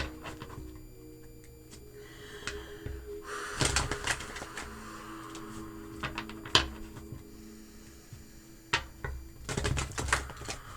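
Soft papery riffles and sharp clicks of a tarot card deck being cut and shuffled, in a few short bursts separated by quieter rustling.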